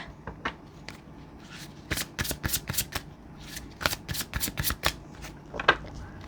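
Tarot cards shuffled by hand, heard close as quick riffling bursts that come in two clusters with short pauses between them, plus a few isolated card snaps at the start and near the end.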